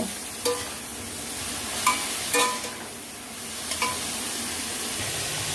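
Bitter gourd pieces dusted with turmeric fry in oil, giving a constant crackling sizzle, punctuated by a handful of brief metallic spatula clinks and stirring scrapes against the pan.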